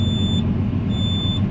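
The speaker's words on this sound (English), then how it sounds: "I'm planting some cotton, so if you hear some beeping, my planter alarms" Seed-count alarm on a cotton planter beeps in two steady high tones over the loud, constant drone of the tractor engine during field planting, with no talk.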